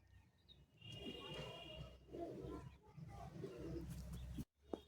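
Madras pigeons cooing in a loft, repeated low throaty coos close by, with some chirps and faint background noise.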